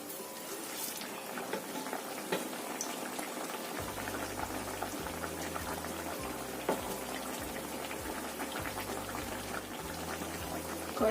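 A fu yung hai egg omelette fries in a pan over low heat, giving a continuous soft sizzle and bubbling that runs steadily and fairly quietly from start to finish, with no talking.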